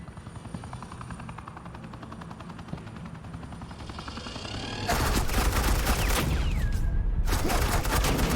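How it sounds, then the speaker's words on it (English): In the Batman: The Enemy Within video game, a helicopter thrums under rapid suppressing gunfire that bursts in loud and dense partway through, hammering on close and continuous over the rotor noise. "This is Agent Quinn, suppressing fire."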